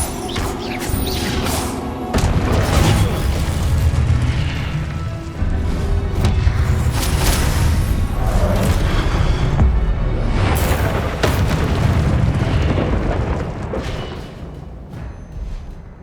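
Spell explosions from the Hogwarts Legacy video game, dense booms, crashes and bursts piling up continuously over a loud, busy combat mix throughout, with no speech.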